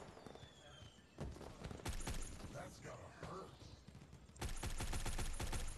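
An Odin assault rifle in a first-person shooter video game fires in rapid automatic bursts, dense cracking volleys that start, pause and resume, loud and near.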